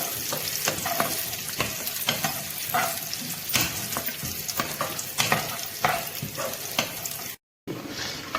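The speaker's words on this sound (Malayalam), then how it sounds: "ഇതെല്ലാം കൂടി നെയ്യ് കിടന്ന് നല്ല രീതിയിൽ മൂത്ത് വരണം" Green gram frying in ghee for payasam, a loud, close sizzle with repeated spoon scrapes and stirring strokes against the pan, broken by a brief dropout near the end.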